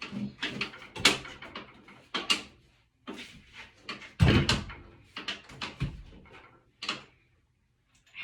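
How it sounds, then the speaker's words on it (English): During the hanging of a door, a series of separate knocks, scrapes and wooden thuds comes in irregular bursts with short quiet gaps between them. The sounds are close and moderately loud. "I'm gonna work quietly and put the door up"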